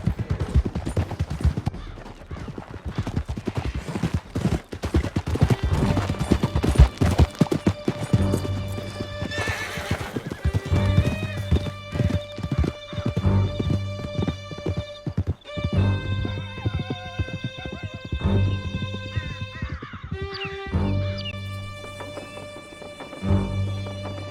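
Horses gallop in the Red Dead Redemption 2 video game, with rapid clip-clop hoofbeats, loud whinnies, and bursts of distant gunfire over a swelling musical score.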